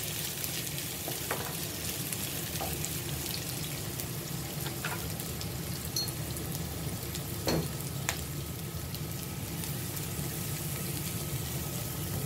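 Mutton curry seasoned with pepper powder is stirred in a hot pan, giving a steady close sizzle and frying crackle with a few sharper scrapes of the spoon throughout.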